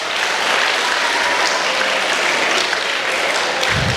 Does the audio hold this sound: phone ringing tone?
no